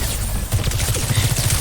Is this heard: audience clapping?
no